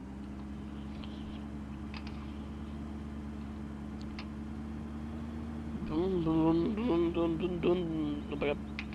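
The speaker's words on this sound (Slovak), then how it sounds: "keď zapnete tento traktorík, či čo to je autíčko, tak znie to, keby ste splachovali záchod" Tractor engine in the video game Farming Simulator, a steady low hum running throughout that rises into a wavering, revving tone near the end, while a person talks over it.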